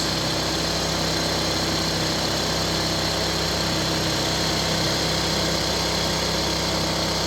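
A car engine idles steadily at moderate level with a constant low hum, running after an oil pressure warning fix, with no voices.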